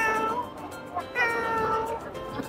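Kitten meowing repeatedly at a Bangkok pet exhibition, several short mews in close succession, near and fairly clear over a busy hall murmur.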